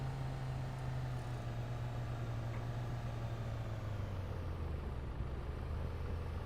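A car engine hums steadily while driving in the video game Schedule 1, a constant low drone with a slowly shifting pitch and no talk.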